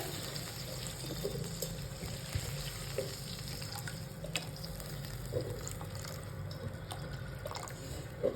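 Water pours steadily into a pot of tamarind kadhi with small splashes and drips, a continuous running sound close by, no talking.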